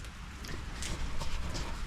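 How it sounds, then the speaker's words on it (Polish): Heavy rain pours down steadily outdoors in Mrągowo, a dense close wash of patter with scattered louder drops and no voices. "leje deszcz."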